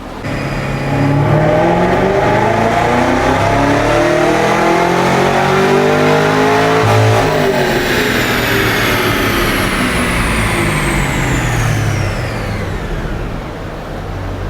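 Cadillac CT5-V Blackwing engine with an AWE SwitchPath exhaust revving hard on a dyno through rising and falling pitch sweeps, loud and continuous, a throaty exhaust roar climbing to high revs.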